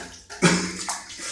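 Water running from a tap or hose to wet a cat during a bath, a steady splashing flow with a louder burst midway, close by.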